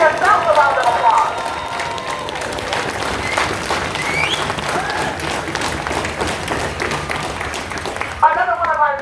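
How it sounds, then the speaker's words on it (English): A protest crowd gathered at city hall breaks into applause and scattered cheers, a dense wash of clapping lasting several seconds, with a voice briefly audible near the start and end. "So give yourselves a round of applause."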